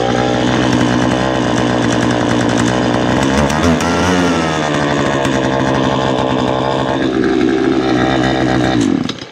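A Poulan Pro chainsaw runs loud and close, its engine buzzing continuously with a brief rev dip midway before cutting off at the end.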